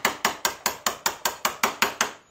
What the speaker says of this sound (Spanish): realmente puede sonar duro el martillazo